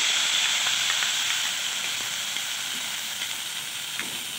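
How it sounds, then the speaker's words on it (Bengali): Onion, ginger, garlic and green chilli paste frying in hot oil in a pan, a steady close sizzling hiss that eases slightly over a few seconds, with no talking. "রসুন, কাঁচা লঙ্কার পেস্ট দিয়ে দিচ্ছি"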